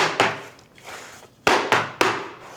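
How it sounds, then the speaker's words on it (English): Cake pans filled with chocolate cake batter are banged on a kitchen counter to release air bubbles, giving several sharp, close thumps with short rattling decay, two near the start and three in quick succession later. "Sorry about the banging."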